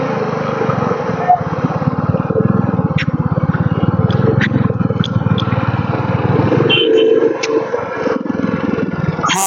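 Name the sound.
motorcycles on a bike ride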